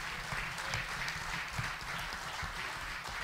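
Steady applause fills a party assembly of Sinistra Ecologia e Libertà, a dense wash of many hands clapping continuously at moderate loudness with no voices on top.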